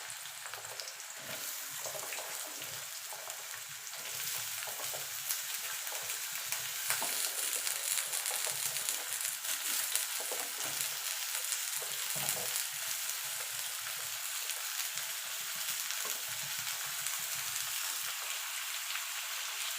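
Chopped ridge gourd fries over high heat in hot oil for a vegetarian jhinge posto, giving a steady, dense sizzle with a faint patter that holds evenly throughout, close by and with no voices.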